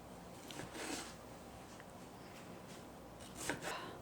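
Knife cutting tomatoes into quarters on a board, a few faint soft chops and slices spaced apart, quiet and close, with no talking.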